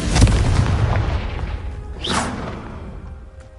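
A Confringo fire spell blast in the video game Hogwarts Legacy: a loud booming burst with a whooshing tail, rumbling under continuous game ambience and fading over a few seconds.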